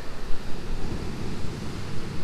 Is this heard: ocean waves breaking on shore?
yes